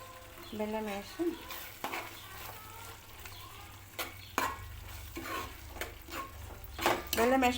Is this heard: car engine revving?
no